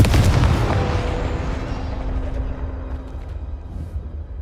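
A Confringo fire spell explodes in Hogwarts Legacy with a loud, close, booming blast, then a long rumbling decay that fades over several seconds, with no talk.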